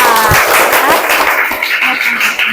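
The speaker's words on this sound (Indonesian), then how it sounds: "Kita berikan aplaus kepada kelompok 4" A classroom group gives steady, close applause after finishing a presentation, a dense wash of clapping with voices mixed in beneath it.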